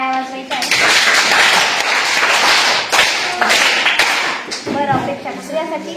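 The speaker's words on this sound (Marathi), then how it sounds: "अपेक्षासाठी सगळ्यांनी टाळ्या वाजवायच्या आहे." A class of primary school children claps for a student, a loud, dense burst of hand clapping lasting several seconds, with a voice heard at the start and end.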